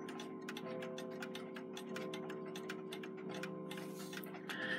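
Seth Thomas long alarm clock ticking steadily at close range, a regular even tick-tock with a faint mechanical rustle near the end.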